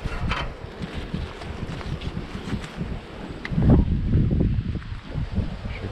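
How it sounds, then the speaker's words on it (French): Strong winter wind in February at Trabuquet gusts and buffets the microphone with rumbling low-frequency roar, swelling loudest near the middle. "parce qu'il y a du vent"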